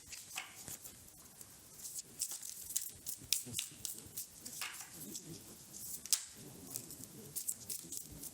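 Tarot cards being shuffled by hand give a soft, steady run of riffling and papery slaps, close and quiet, with no talking.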